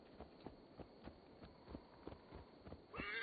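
Steady hoof clip-clops from a horse at a walk in Assassin's Creed Valhalla, evenly spaced thuds repeating through the clip, with a brief swell of other sound at the end.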